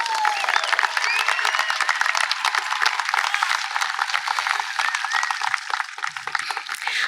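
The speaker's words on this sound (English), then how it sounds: "Please give them a round of applause." Audience at a high school graduation applauding, a continuous bright patter of many hands clapping at a fairly even level from start to finish.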